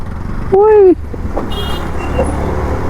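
Road traffic heard while riding a TVS Jupiter scooter toward Titwala, with a steady engine and road rumble, a loud vehicle horn blaring for about half a second, then continuing traffic noise.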